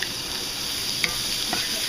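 Seasoned hamburger steaks frying in a lightly oiled 11-inch skillet give off a steady, close sizzle with a couple of small pops and crackles.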